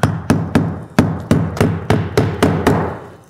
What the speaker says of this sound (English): when nailing your shingles in your valley here